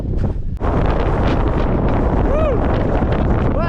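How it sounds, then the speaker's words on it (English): Strong wind buffets the microphone high on Mount Teide in Tenerife, a loud, continuous roaring rush with a brief dip early on and faint whoops from a person in the background. "Just a short break from the wind and can hear it coming up again."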